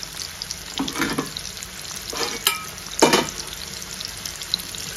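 Sliced onions and fresh curry leaves frying in plenty of oil for a fish roe fry hiss softly, with a few louder bursts of spattering and stirring scrapes close by.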